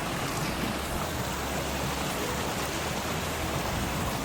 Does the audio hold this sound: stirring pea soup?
no